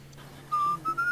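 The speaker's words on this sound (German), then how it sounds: "Ach Gott, da ist dieser pfeifende" Percy, a character in the adventure game So Blonde, whistles a short tune of a few clear, steady notes with brief gaps between them, over a quiet bed of background ambience.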